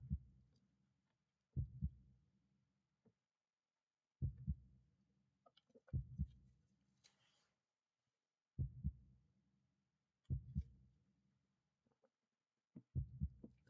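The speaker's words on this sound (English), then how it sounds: "there's some heart beating" A slow heartbeat in a video game, heard as paired low, muffled thumps in a steady lub-dub rhythm, roughly every two seconds, with faint background noise between the beats.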